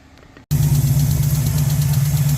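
A misfiring small-block Chevy V8 in a 1967 El Camino idles loudly up close with a low, uneven, loping rumble and shaky vibration, starting abruptly after a brief quieter moment; no talk.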